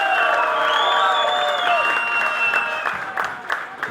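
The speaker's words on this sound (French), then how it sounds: "Je vous demande d'applaudir" Crowd applause and cheering at a political speech in Mauritius, loud and sustained with whoops and shouts mixed in, tapering slightly toward the end.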